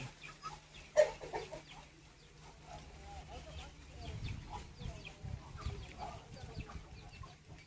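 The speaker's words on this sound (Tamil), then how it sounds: "கிண்ணி கோழிலாம் இங்கே இருக்குது பெரிய கிண்ணி கோழி உள்ளார இருக்குது" Guinea fowl cluck and call faintly in the background while a person talks nearby, the calls scattered and irregular over a low rumble.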